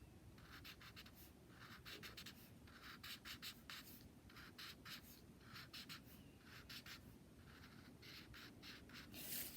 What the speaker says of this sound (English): just kind of coloring in gray